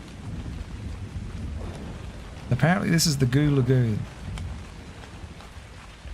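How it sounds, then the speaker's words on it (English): Steady rain hisses through a nighttime storm in a video game set in Svartalfheim, with no distinct thunderclap standing out. Someone talks briefly over the rain partway through. "We might wait till the rain clears."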